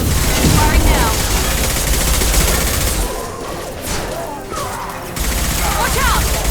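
Sustained gunfire in the Mass Effect 2 Legendary Edition, loud and dense with overlapping shots and some crashing impacts, easing off briefly partway through before picking back up.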